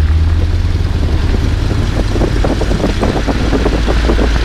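A loud, steady aircraft radial engine roar during a run-up to 1,700 RPM, with a deep low rumble, holding a constant high power level throughout without pause.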